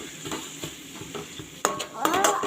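Pasta is mixed in a pan over a low flame, giving a soft sizzle under scraping, clattering stirring strokes that grow louder toward the end.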